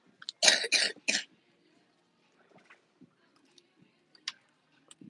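A child coughs several times in a quick, harsh cluster up close, followed by quiet with faint scattered clicks and small noises.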